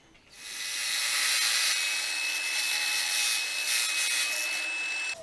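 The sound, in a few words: roughing up vacuum extender surface before gluing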